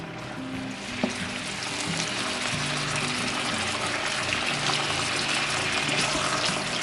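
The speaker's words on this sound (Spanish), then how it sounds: "Comenzamos agregando un chorro de aceite en la cazuela y con los bistecs ya salpimentados los vamos a agregar a la cazuela" Beef steaks seasoned with salt and pepper searing in oil in a pot, a steady loud hiss and crackle of frying filling the whole stretch with no talk.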